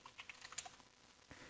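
A computer keyboard being tapped for shortcut combinations such as Control Enter and Control P while coding with Flet, giving a few quiet, close clicks spread over a moment, with a slightly firmer press near the end.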